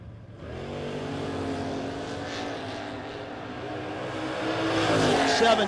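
Two drag race cars running side by side at a no-box 660 shootout, engines droning with rising harmonic pitch, loud and sustained, growing louder toward the end.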